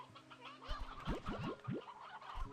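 Briar hens in Slime Rancher 2 cluck in a short burst of rising calls, several quick clucks in a row over a busy background, fairly close and alone without speech.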